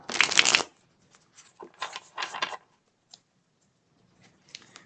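Tarot cards being shuffled during a live reading, with a crisp riffling burst followed by several shorter rustling shuffles and a few faint card taps, close and dry with no talking.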